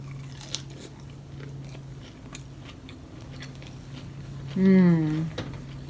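Fried shrimp being bitten and chewed up close, with crisp crunching bites over a steady low hum, followed by a short burst of voiced sound near the end.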